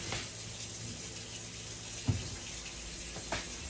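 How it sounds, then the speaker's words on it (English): Tap water runs steadily into a sink during handwashing with soap in a home kitchen while cooking birria tacos, a continuous soft hiss with a couple of brief knocks, no talking. "let's wash our hands and get some soap"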